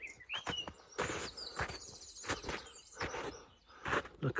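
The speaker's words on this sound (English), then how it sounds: "It's a lovely sound though, isn't it? With the birds as well." Footsteps crunching through snow outdoors, a steady series of close, soft compressions, with faint bird calls and chirps in the background; fairly quiet overall and no one talking.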